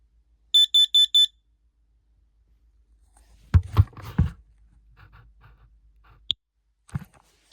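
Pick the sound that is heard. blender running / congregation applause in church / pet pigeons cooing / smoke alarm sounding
smoke alarm sounding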